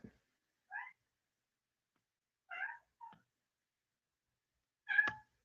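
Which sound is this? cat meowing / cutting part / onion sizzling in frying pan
cat meowing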